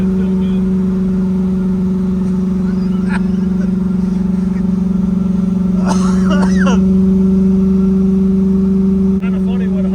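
A 1968 Chevelle with a cammed 5.3L V8 runs at full throttle, a loud steady drone heard from inside the car, with brief voices and rattles over it.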